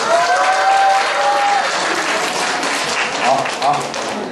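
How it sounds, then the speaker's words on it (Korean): Concert audience at a youth fusion concert gives a loud burst of applause welcoming a student lecturer, dense clapping filling the room with a brief tonal whistle early on and faint crowd voices mixed in. "큰 박수 부탁드립니다"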